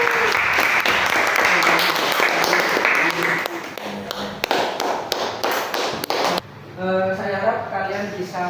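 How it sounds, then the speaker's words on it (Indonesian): A classroom of students applauds together, a loud dense patter of many hands that runs for several seconds before thinning out, with a voice speaking over the end. "Oke, tepuk tangan dulu."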